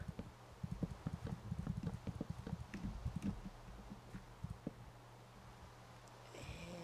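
Soft, irregular hoof thuds and scrapes from cows shuffling on the ground in rain in the video game Minecraft, quiet and close, fading out toward the end.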